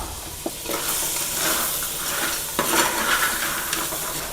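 Crab gravy masala frying in a pan, a constant loud sizzle with scraping stirs and occasional clinks of a spoon against the pan, no talking.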